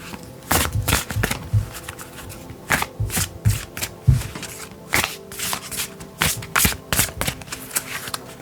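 Oracle deck cards being shuffled by hand, close and clear, in repeated riffling bursts with short pauses between them and no talking.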